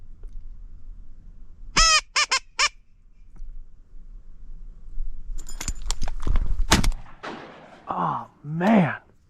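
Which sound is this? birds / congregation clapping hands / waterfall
birds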